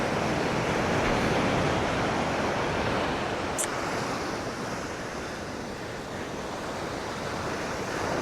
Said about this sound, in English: Enjoy some of the waves.